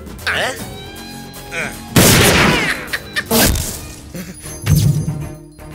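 Gunfire erupts in a Telugu movie scene: loud, sharp bursts of shots and booms arrive in several clusters, with a voice speaking between the blasts.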